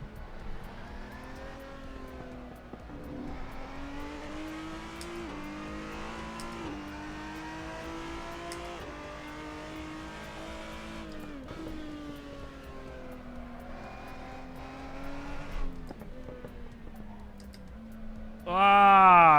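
Race car engine in the Assetto Corsa video game drones and revs steadily throughout, pitch rising and falling with gear changes, ending in a louder high-pitched whine near the end.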